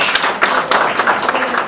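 Audience clapping for a film star at a Bhojpuri film audio launch, a short dense burst of applause at close range, steady and fairly loud with uneven peaks.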